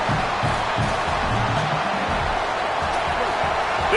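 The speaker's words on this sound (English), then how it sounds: "This crowd bringing the energy and noise early." A football stadium crowd roars in a broad, continuous wash of noise, loud and distant-sounding, with faint cheers rising from the mass of voices.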